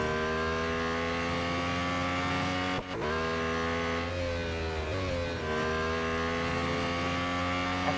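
Lotus Emira GT4 race car in the Real Racing 3 game, its engine holding a loud, steady high-revving drone with a brief dip near three seconds and a slight shift mid-run, with no talk over it.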